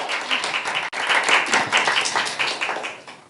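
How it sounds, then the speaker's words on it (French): An audience at a conference on women in Haitian politics claps, a dense, close round of applause that stays lively throughout and fades slightly at the end. "Sous vos applaudissements."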